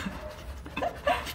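A husky panting close by in short, quick breaths, with a faint whimper-like note near the end and no talking.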